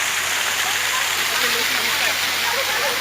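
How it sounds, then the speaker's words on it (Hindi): An artificial waterfall at a resort pours from above in a steady, dense rushing hiss, constant and fairly close, with someone speaking over it. "ऊपर से पानी गिर रहा है।"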